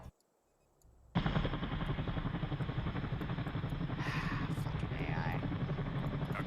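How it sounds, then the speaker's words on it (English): Helicopter in the Arma 3 game, a loud continuous rotor and engine roar starting abruptly after a quiet second and holding steady, with voices talking over it. "Helicopter."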